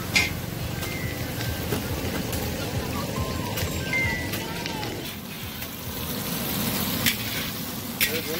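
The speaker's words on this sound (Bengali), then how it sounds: "এইদিকে আমার ভাই বেগুনি ছেড়ে দিয়েছে তেলে, গরম গরম বেগুনি" Eggplant fritters (beguni) fry in hot oil at an outdoor riverside picnic, a dense crackling hiss with occasional ticks and a low rumble of background activity throughout.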